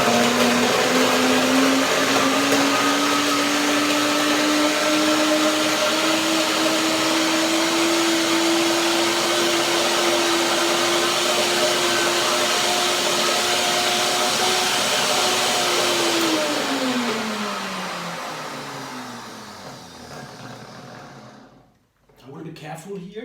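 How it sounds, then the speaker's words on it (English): A kitchen blender runs on heavy cream for a hazelnut tart, a loud steady motor whine that holds for a long stretch, then winds down in pitch and cuts off. "when the sound of the blender goes up, especially when I have a firm cream, a heavy cream like this"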